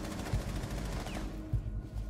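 Gunfire in Rainbow Six Siege: continuous automatic shooting with a couple of heavier booming shots, loud and dense through the whole stretch, no talking.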